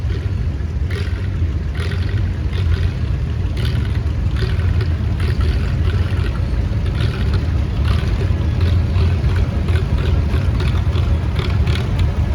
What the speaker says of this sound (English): Oliver 60 Standard, built in 1948, owned by Larry Sonderricker of Warren, Penn